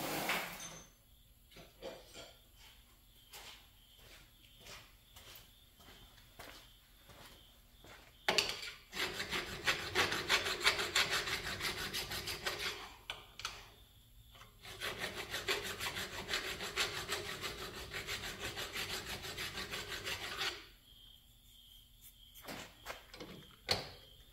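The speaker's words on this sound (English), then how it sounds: "let me get a half round file and deburr the inside of the holes" A half round file rasps back and forth inside drilled holes in metal on a truck power steering install, giving a run of quick gritty strokes, then two longer, louder stretches of steady filing with short pauses between.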